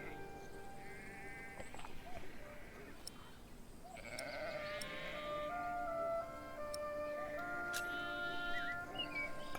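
Sheep bleat in a medieval village scene from the video game Pillars of the Earth, several wavering calls repeating near and loud over a steady ambient bed of game background sounds, with no talking.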